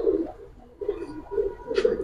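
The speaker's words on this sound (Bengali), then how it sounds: "আরেক প্যাট জঙ্গলি সাপচিল স্টাইল কবুতর" Wild sapchil-style pigeons coo close by in a steady rhythm of about four soft, throaty bursts, alone without any talking.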